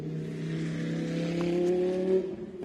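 GT3 race cars filing in slowly under a red flag on a treacherous circuit during the China GT Championship at Qinhuangdao, engines droning steadily at low revs with a continuous tonal hum.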